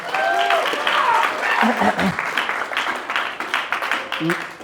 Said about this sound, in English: could everybody give a round of applause for Lauren?